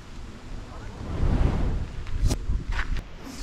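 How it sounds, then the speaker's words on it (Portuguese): Strong wind at a fishing spot buffets the microphone in a steady, loud roar with gusts swelling midway, plus a few brief knocks near the end; no voices during the gusts. "Olha esse vento, pessoal."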